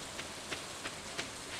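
Steady rain patters down in the farming game Stardew Valley, a soft even hiss with faint recurring droplet taps, quiet and continuous with no voices.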